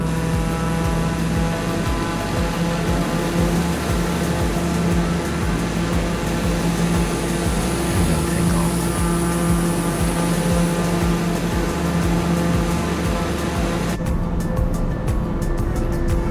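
Aircraft engines run up to 100% power, a dense continuous roaring drone with a whining hum that holds for the whole stretch before the tone shifts near the end.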